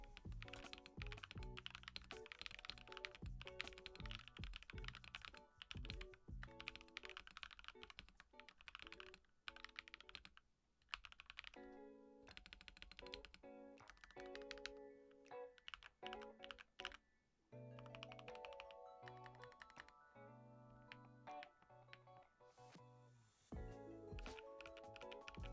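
Epomaker LK67 mechanical keyboard being typed on, a close, continuous stream of crisp clacky keystrokes with bursts of fast typing, brief pauses, and heavier thocks from larger keys, with no talk.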